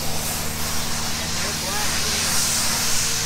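A very large media blaster set up for highway work sprays abrasive over wheels and a valve cover, a steady loud hiss of rushing air and grit running unbroken throughout while a voice speaks over it.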